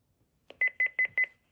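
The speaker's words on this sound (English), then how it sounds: "Let's try the alarm." A 1980s talking clock's electronic alarm gives four quick double beeps in an even rhythm, close and clear against silence.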